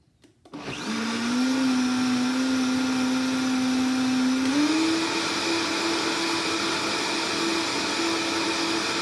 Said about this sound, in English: I'm ready now to blend this all up